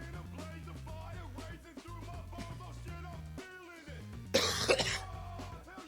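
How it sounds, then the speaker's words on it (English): A single cough bursts out near the end over a music mashup playing a drum beat, loud against the steady track. "That cough was in time with the Tachyon."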